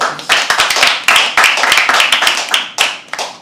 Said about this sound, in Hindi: एक बार होस्ट के लिए ताली बजा दो यार।